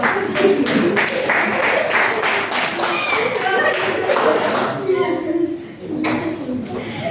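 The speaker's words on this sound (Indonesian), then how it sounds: "Tepuk tangan." A classroom of students claps hands together during a practice teaching lesson, producing dense, brisk applause that fills most of the clip and then tapers as a voice carries on talking.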